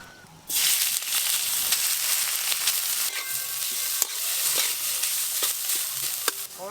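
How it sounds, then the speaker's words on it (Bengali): Pieces of banana stem fry in oil in a pan, a continuous bright sizzle that starts abruptly and holds steady, punctuated by small pops and occasional stirring clinks, with no talk. "এবার থোরগুলো আমি একটু ভালো করে ভেজে নেব।"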